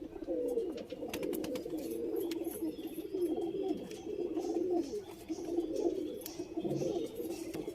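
Pigeons in a loft cooing steadily, soft low throaty coos repeating close by with faint rustling and occasional chirps, no talking.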